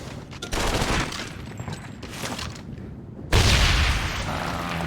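Gunfire crackles and thuds in the video game Medal of Honor Vanguard, then a heavy grenade explosion bursts in loud and close near the end, followed by lingering rumble and debris noise.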